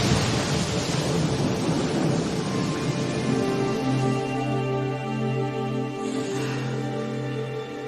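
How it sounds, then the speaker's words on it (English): A thunderstorm with strong winds rumbles loudly, with a long rolling peal of thunder fading slowly under a steady hiss of rain, close and heavy, and no voices. "rain, thunderstorms, and lightning in the forecast"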